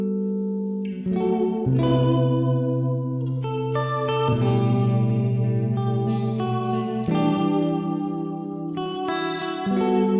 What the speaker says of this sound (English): And finally the space. It's like a reverb, right?